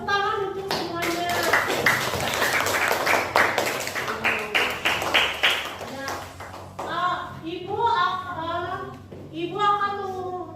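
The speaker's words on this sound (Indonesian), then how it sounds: "Tepuk tangan untuk semuanya." A school class bursts into clapping for about six seconds, a bright crowded patter of hands, after which children's voices chatter and call out.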